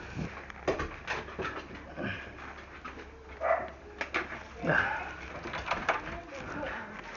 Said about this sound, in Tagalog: Aso dyan.